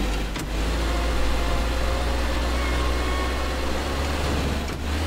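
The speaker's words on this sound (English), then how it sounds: "This car's probably gonna catch on fire in a second here." In Teardown, a Lego car's engine runs continuously, a loud, steady mid-pitched hum that holds evenly for several seconds, with a brief knock near the start and another near the end and no voices.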